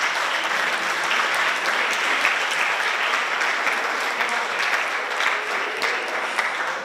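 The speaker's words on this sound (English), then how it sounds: "a wonderful, wonderful round of applause again to the teams" A school audience gives a long, steady round of applause for robotics challenge teams, dense and even clapping filling the room without pause.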